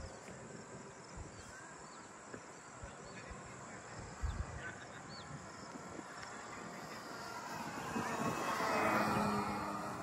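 An FMS Pitts 1400mm radio-controlled airplane drones steadily in flight, a distant buzzing engine note that swells louder as it passes nearer toward the end, over outdoor ambience.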